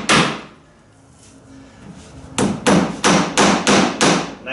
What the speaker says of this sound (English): Nice thing about putting these rivets in right now, just putting a few, just kind of holding everything in place.